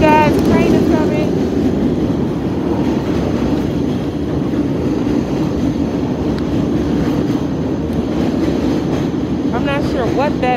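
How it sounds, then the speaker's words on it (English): A train rolls past at close range, a loud continuous rumble that holds steady for about ten seconds, with intermittent talking audible over it at the start and end. "Train is coming."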